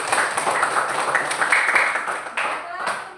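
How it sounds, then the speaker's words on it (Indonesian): Students in a classroom clap together for about three seconds, a dense and fairly loud burst of applause that tapers slightly toward the end, with faint voices mixed in. "Oke, terima kasih, tepuk tangan dulu"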